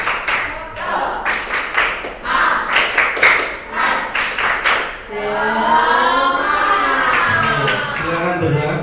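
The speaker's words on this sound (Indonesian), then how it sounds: "tepuk semangat dulu satu kali" A middle school class does a rhythmic 'tepuk semangat' clapping cheer, with bursts of patterned clapping in quick groups, followed by children's voices chanting and talking together in a noisy classroom.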